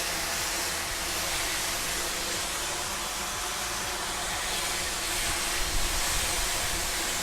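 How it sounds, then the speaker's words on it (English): A passing steam engine train outdoors produces a continuous, loud, hissing rumble with a faint rhythmic clatter underneath, steady for several seconds with no voices. "There's a steam engine, so we're going to have to kind of wait for that to pass."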